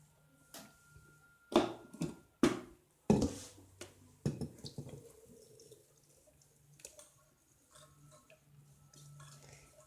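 Water is poured into barnyard millet idli batter, ground with flattened rice and salt and mixed into a vessel of ground urad dal. A few loud splashes come early, then a softer trickle and stirring.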